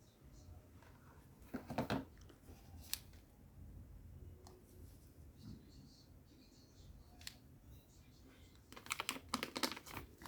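Scissors snip open a pancake mix package, a few sharp cutting bursts near the start and a quicker cluster toward the end, close and fairly quiet over a soft room background.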